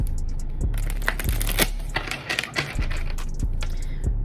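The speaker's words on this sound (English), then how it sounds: "So we're gonna shuffle these cards one more good time for my Aries." A deck of tarot cards being shuffled by hand, close, crisp riffling and slapping in quick irregular bursts with brief pauses between.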